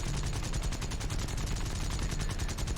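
Aircraft guns firing in War Thunder, a continuous rapid stream of machine-gun shots held for the whole stretch, loud, close and unbroken, no speech over it.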